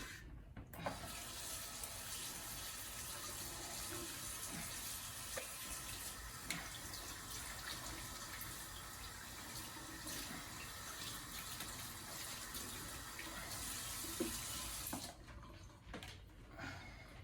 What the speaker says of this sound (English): It's just a good idea to wash your jars with soapy water.